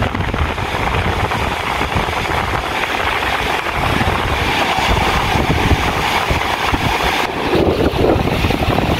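Extremely strong wind buffeting a microphone on a fishing boat out on the water, a loud continuous roar and rumble with gusty surges throughout.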